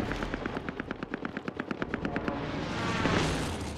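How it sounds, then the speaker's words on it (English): Rapid automatic gunfire in Call of Duty Warzone, a steady burst of evenly spaced loud shots for about two seconds, then fading into a rumbling wash of battlefield noise. "Oh, somebody shooting me in the back."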